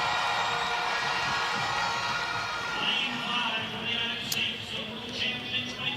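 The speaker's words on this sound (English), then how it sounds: "Clayton got a great cheer" A Jamaican stadium crowd roars in sustained cheering for hurdler Rushell Clayton before a women's 400m hurdles race, a dense, steady wash of voices with a few higher shouts rising near the end.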